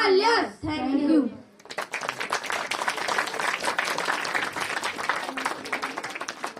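An audience applauds steadily after a Class VII school performance about the eternal Himalaya, with dense sustained clapping, preceded by a brief stretch of children speaking before the applause swells.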